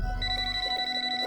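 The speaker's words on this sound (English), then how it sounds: "When the phone rings in the middle of the night" A telephone rings in the middle of the night, steady electronic bell tones sounding loud and close for over a second with no voices.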